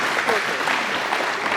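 Audience applause at a summer camp car show and track awards event, steady dense clapping from a crowd throughout, fairly close and loud with a faint voice underneath.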